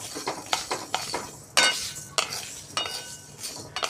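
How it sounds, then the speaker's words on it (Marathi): Spices being dry-roasted in a pan for kacchi dabeli masala, with a metal spoon repeatedly scraping and clinking against the pan in an uneven rhythm of sharp strokes, close by and without talking. "थोडा वेळ असेच हे आपण मसाले भाजून घेऊया."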